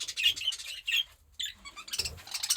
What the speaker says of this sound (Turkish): Bunlar da diğer kuşlarımız.